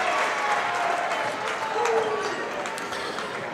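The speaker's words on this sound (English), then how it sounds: "His old junior high buddies up in the corner cheering him on." Crowd noise from a high school varsity boys basketball game in a gym, a small cheering section calling out for a freshman after his free throw, steady broadband murmur and applause throughout with talk over it.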